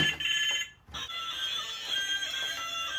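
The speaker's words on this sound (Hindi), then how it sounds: "मेरा कॉल आ रहा है, 1 सेकेंड।" Phone ringing with an incoming call, a steady electronic ringtone with bright tonal pulses continuing throughout, close and fairly loud with a brief dip early on.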